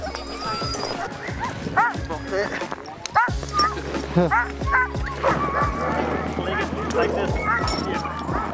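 Sled dogs at the North Pole bark and yip in a busy, overlapping chorus with occasional whimpers, close by and fairly loud, while people talk over them.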